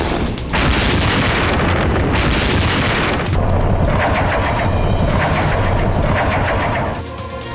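Missile strike explosions in the Russia–Ukraine war, a dense, loud rolling roar of booms and crackling bursts with no pauses, dropping away near the end.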